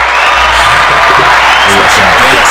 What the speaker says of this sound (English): So drop the applause too.